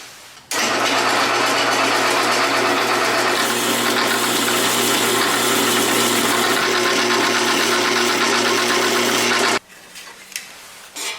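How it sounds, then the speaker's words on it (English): A parts washer pump switches on with a sudden start and then runs as a loud, steady electric drone with a constant hum for about nine seconds. It cuts off abruptly, leaving faint clatter in a workshop. "Plug in the parts washer again?"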